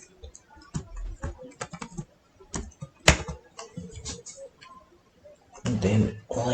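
Computer keyboard keys are tapped in irregular bursts of sharp clicks while someone types code. A person talks between the keystrokes.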